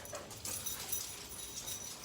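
Dogs playing tug of war, with steady close whimpering, panting and yipping over rustling through the whole stretch.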